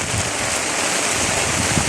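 Heavy rain pours during a thunderstorm by the Loire river in rising water, a dense, loud, steady hiss of drops and wind with no break or voices.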